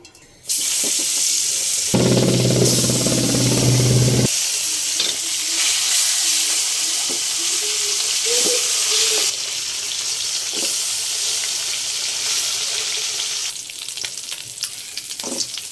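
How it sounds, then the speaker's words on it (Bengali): Koi fish, rubbed with turmeric and chili, frying in hot oil in a pan, giving a loud, steady sizzle that runs nearly unbroken throughout, with brief clinks and stirring noises and no talk. "যে আমি তেল দিয়ে দিব মাছ ভাজার জন্য"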